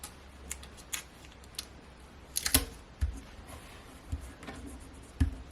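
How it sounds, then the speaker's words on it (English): Sharp snips and small clicks of tape being cut while crafting a ribbon tag, a handful of scattered, close, quiet cuts with pauses between them. "So I cut a piece of tape, position the ribbon in the middle."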